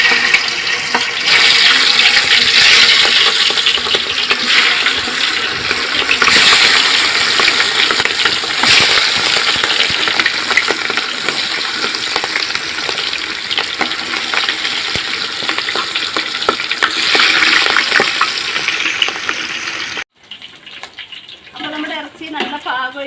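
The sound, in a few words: spiced chicken deep frying in oil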